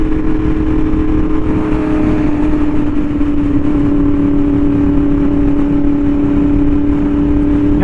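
A Yamaha R1M sport bike with an SC Project exhaust cruises along scenic roads, its engine holding a loud, steady drone close up, with wind rush beneath and a brief rising rev right at the end.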